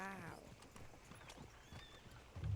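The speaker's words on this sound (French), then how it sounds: "Moi, ils s'en vont, nos petits chevaux." Horses in the Red Dead Redemption 2 video game trot with a steady clip-clop of hooves close by, opening with a brief whinny, while a voice talks quietly in the background.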